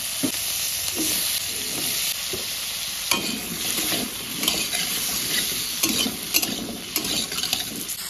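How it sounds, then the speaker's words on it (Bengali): Potatoes fry with salt and turmeric in hot oil in a pan, a steady close sizzle broken by frequent metallic scrapes and clinks of a spatula stirring, no voices. "এখন আলুগুলো ভেজে নেব।"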